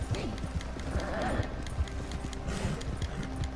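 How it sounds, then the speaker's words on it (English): Horse hooves clip-clop at a steady trot in the Red Dead video game, moderately close, with an occasional whinny and ambient game sounds underneath, while someone talks intermittently. "my horse getting a little tired"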